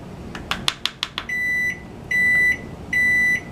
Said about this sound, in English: That's the timer for that cake I told you I was baking.